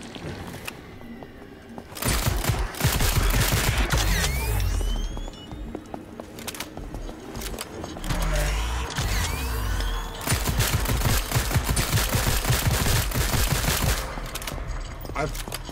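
Rapid bursts of gunfire from a Call of Duty Zombies match, loud and close, with sustained fusillades and machine-gun rattles that start in earnest after a quieter opening and keep going almost nonstop.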